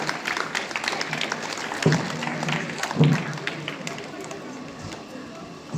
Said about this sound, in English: Please give in big round of applause.